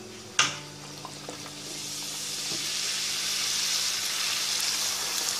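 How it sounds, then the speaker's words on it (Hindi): Bhatura dough drops into hot oil with a sharp splash, then a steady sizzle builds and swells into a loud, continuous frying hiss, with faint clinks from utensils. "अब हम ऑयल को गर्म करके उसके अंदर ये आहिस्ता से ड्रॉप कर देंगे।"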